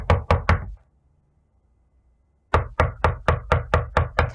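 Knocking on a door comes in sharp, loud raps: a quick group of three, a pause of near silence, then a longer run of about eight evenly spaced knocks.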